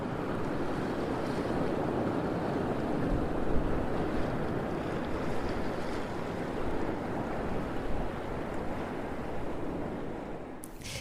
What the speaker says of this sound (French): Donc le vent, c'est une constante ici.